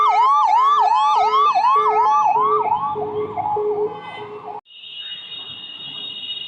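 A small ambulance's wailing siren cycles rapidly on a city street, loud and close, then shifts to a slower tone before a steady horn-like tone takes over amid traffic noise.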